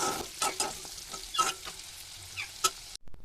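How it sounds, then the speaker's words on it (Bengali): Potatoes and drumstick stalks frying in hot oil, stirred in the pan, giving soft sizzling with several short scraping stir bursts, close and fairly quiet, ending abruptly. "তো লাল লাল করে আমি একটু ভেজে নিচ্ছি।"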